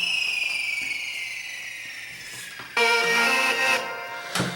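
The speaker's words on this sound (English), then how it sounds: "Then I also have another imported thing, which is a kick drop" Imported kick drop sample playing in FL Studio Mobile: a bright, steadily falling synthetic sweep that cuts to a loud sustained harmonic tone, with a sharp hit near the end and no processing effects.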